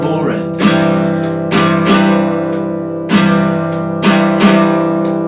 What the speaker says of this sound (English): So I'm doing down strums on the first beat,